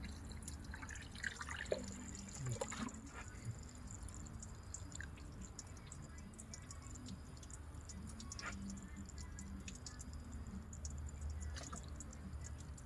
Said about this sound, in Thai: นี่เทลงมาแล้วปล่อยตรงนี้เลย